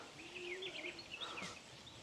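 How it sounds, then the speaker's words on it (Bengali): Small birds chirping outdoors in a clean, tree-lined African village yard, a few faint twittering calls rising and falling over quiet ambience, no one talking. "পাখির কিচিরমিচির শব্দ"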